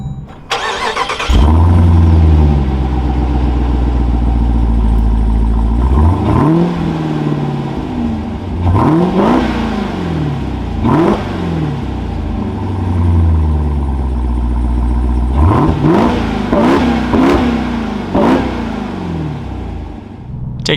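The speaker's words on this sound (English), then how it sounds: "keeping my foot on the brake, and go ahead and fire it up" A 2023 Dodge Durango SRT Hellcat AWD SUV fires up with a loud starter catch and roar, then settles into a deep idle broken by several sharp throttle blips, rising in a close quick cluster near the end.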